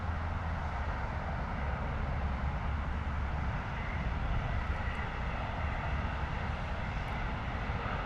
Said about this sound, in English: British Airways 777-200 coming in from Toronto